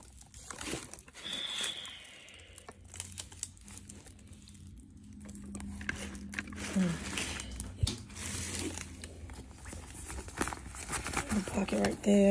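Tissue paper crinkles and rustles in bursts while Victoria's Secret accessories are unpacked, with a person talking over much of the handling noise.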